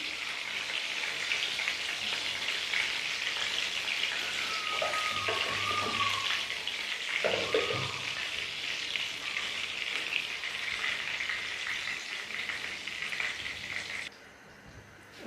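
Gola kabab sizzling and frying in a pan over a low flame, a steady soft crackle with a few brief scraping or stirring touches, no voices.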